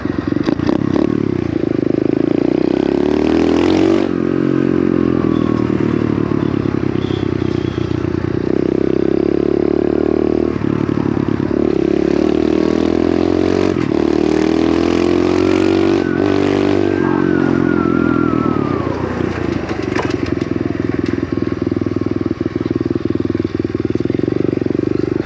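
A small pit bike engine droning loudly in second gear while riding, a steady close buzz that rises and falls with throttle changes and a few brief rattling bumps, with no voices.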